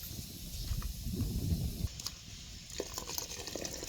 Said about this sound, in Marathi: आता पाण्याला उकळ्या आल्या